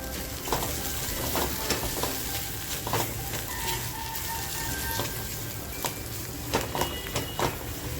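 Masala spice paste frying and being stirred in a pan, with a steady close sizzle and repeated spoon scrapes for a mutton dish.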